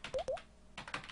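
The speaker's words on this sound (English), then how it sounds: "or use the actual keyboard" Typing on a computer keyboard while making beats in music software: a few quick quiet key clicks, a pair early and a cluster near the end, alone without talk.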